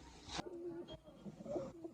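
A female pigeon coos faintly nearby, a few soft, low, throaty notes in under two seconds against quiet outdoor background noise.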